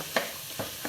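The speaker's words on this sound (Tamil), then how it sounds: "போட்டு கிளறி விடுவோம். நல்லா கிளறி" Coconut flower stir-fry being stirred in a pan, with three separate scraping and sizzling strokes spread across the second. The strokes are close and fairly quiet, with a soft frying hiss underneath.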